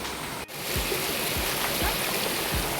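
Steady rushing water of a clear stream near Kuttikkanam flows throughout, a continuous broadband wash with a few low gurgling surges, close and fairly loud.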